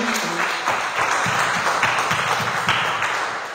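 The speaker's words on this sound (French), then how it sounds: "Acclamons très fort le Seigneur" A church congregation at a French-language service claps together in lively, rhythmic applause for the Lord, with sustained, evenly spaced hand claps filling the room and faint voices underneath.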